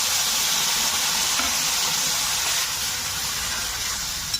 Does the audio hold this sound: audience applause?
no